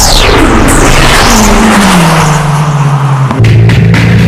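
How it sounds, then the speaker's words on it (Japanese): A Nissan GT-R race car zipping through the final corners of a course, its engine note sliding down in pitch as it brakes into a bend, then surging again loudly and close. "MCR GTR gets a break, zips through the last corners of the course."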